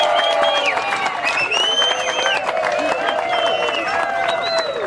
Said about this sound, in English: Give yourselves a round of applause for being a part of it.